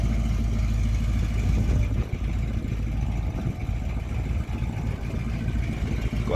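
A 1975 Ford F750 fire truck engine runs steadily nearby, a low rumbling idle with a slight dip partway through and no voices over it.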